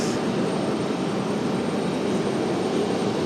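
Republic Airways jet airliner passing close by during plane spotting at Raleigh-Durham airport, a loud, steady broadband engine roar holding evenly throughout with no voices.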